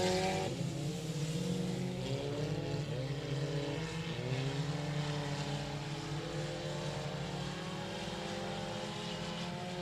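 Four-cylinder class race cars on a dirt speedway at 67 Speedway of Texarkana drone steadily from a distance, their engine tones rising and falling as they pass.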